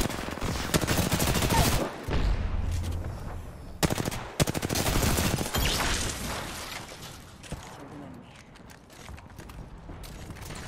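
Sustained automatic gunfire in the video game Apex Legends, loud and near with rapid bursts and brief pauses, fading into sparser shots toward the end.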